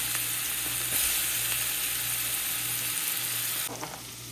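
Onion hits melted butter in a pan with a loud, steady hissing sizzle, close and continuous, easing slightly near the end as the frying settles.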